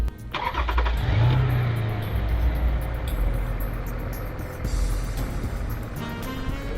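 A car engine cranks and catches, settles into a loud, steady running note, and dips slightly near the end, heard close and alone with no talk over it.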